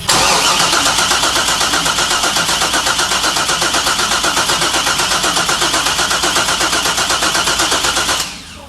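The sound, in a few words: LS engine being cranked and starting in a Mazda FD RX-7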